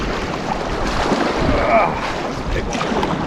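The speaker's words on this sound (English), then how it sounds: "And it looks like the reflection waves are kicking up." Wind-driven rough water and reflection waves slosh and lap around a canoe on Lake Superior's open coast, a steady broadband wash with gusty wind noise close by and no voices.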